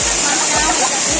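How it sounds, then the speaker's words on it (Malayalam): Manoori waterfall in Kasaragod roars loudly and steadily, a dense close rush of falling water filling the whole short clip without a break. "ഇതുവരെ ഇങ്ങനത്തെ വെള്ളച്ചാട്ടം കണ്ടിട്ടില്ല കാസർഗോഡ് ജില്ലയിൽ അല്ലേ"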